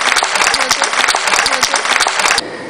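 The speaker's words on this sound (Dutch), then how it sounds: "Misschien een warm applaus vragen voor de 34... wielerhelden" A crowd applauds 34 returning members of a cycling tourist club at their homecoming after a final ride to Landegem, loud close clapping that cuts off abruptly near the end.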